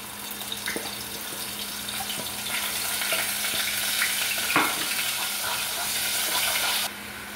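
Onion paste fries in hot oil in a pan, a loud, steady sizzle with occasional stirring knocks, and the hiss drops off abruptly near the end.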